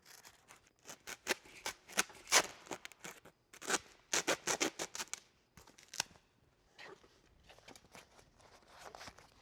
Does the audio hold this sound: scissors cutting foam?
yes